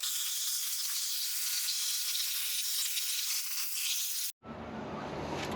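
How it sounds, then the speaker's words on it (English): Pressure washer spraying down golf cart batteries, a continuous loud broadband hiss that cuts off abruptly near the end, followed by a softer rumbling wash of water. "I'm going to pressure clean them."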